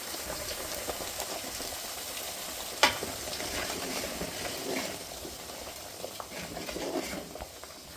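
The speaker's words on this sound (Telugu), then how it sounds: "ఈ ఆయిల్లో మసాలా మగ్గించుకోవాలండి" Masala fries in hot oil with onions, green chillies and curry leaves for a village-style fish curry, sizzling steadily while a utensil stirs and scrapes through it, with one sharp clink partway through.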